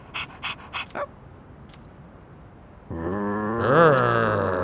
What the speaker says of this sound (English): Speaking of dogs, I can hear Casey now.